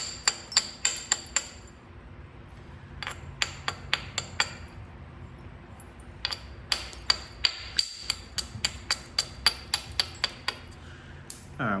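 Flintknapping on coastal chert: a hammerstone or billet strikes the stone in sharp, clicky taps, spaced in bursts with brief pauses, close and clear with a faint ringing edge, no talking.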